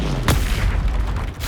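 A Confringo blasting spell in Hogwarts Legacy sets off one sharp explosive boom, followed by a rumbling, crackling tail of game combat noise.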